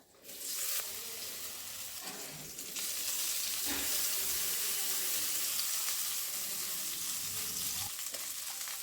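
Spice masala with asafoetida frying in ghee over a low flame, stirred with a ladle: a loud, continuous close sizzle with scraping strokes breaking through, no voices.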